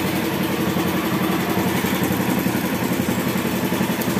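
A motorcycle engine converted from carburetor to homemade fuel injection idles steadily close by, with an even, unbroken running rumble throughout.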